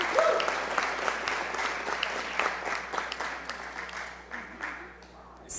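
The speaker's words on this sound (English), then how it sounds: "let's give them a round of applause for a perfect 29-0 season" City council chamber audience applauds a volleyball team after a perfect 29-0 season, with dense clapping that starts strong, gradually thins, and tapers toward the close.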